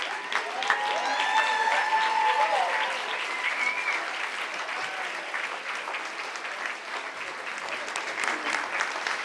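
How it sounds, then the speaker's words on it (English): Crowd at a hospital heroes awards gala breaks into sustained applause, a thick wash of clapping with scattered whoops and voices rising early on, then continuing steadily at full strength. "let's give another round of applause to all of our 2024 My SoCal Hospital heroes tonight"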